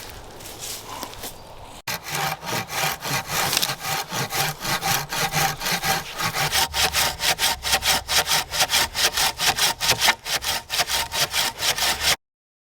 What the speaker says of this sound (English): We want to cut a mitre on it